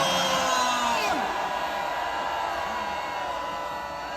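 Crowd at a street rally against impeachment outside an anti-corruption investigation office, yelling and roaring together in a sustained, loud mass of voices with steady background din and no break.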